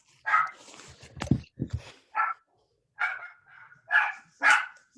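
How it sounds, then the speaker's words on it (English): A dog barking and yipping nearby in a room, a run of sharp, uneven barks with short gaps between them, mixed with some whining, and brief speech-like sounds early on. "What is wrong with this dog?"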